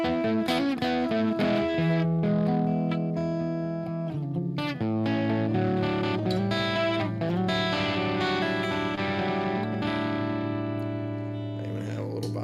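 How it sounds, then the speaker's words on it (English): An electric guitar runs through an amplifier with a pushed EF86 preamp tube and a subtle vibe effect, strumming chords and single notes with thick, gritty distortion and sustained ringing tones. "That EF86, when you push it, gets really nice distortion."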